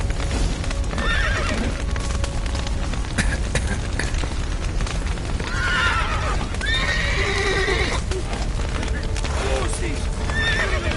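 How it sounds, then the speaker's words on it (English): Horses neigh and whinny in The Witcher 3 video game, with loud repeated calls and clip-clopping hooves under steady background noise while voices shout throughout. "Horses! Getting them out!"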